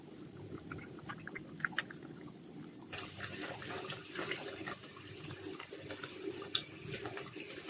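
Onion lehyam mixture boiling in a pan while being stirred, a steady bubbling, watery wash close by with small scraping clicks, growing brighter and busier partway through.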